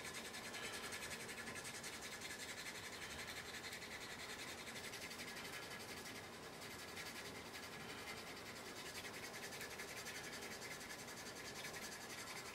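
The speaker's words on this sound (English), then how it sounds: "it's allowing me to sand that piece on the backbone there" A skinny sander working a wooden piece along a backbone, a continuous steady abrasive hiss and rub at low level with no pauses or talk.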